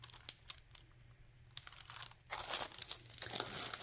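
Sheets of leather-armchair specialty craft paper are handled close to the microphone, giving repeated crisp crinkles and rustles that build into louder, denser crackling toward the end, with no talking.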